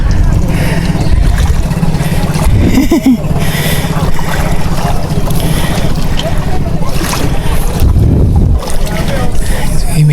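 Boat noise on open water off Alibijaban Island, Quezon, a steady engine-like rumble mixed with wind buffeting the microphone and occasional splashes, with voices speaking over it.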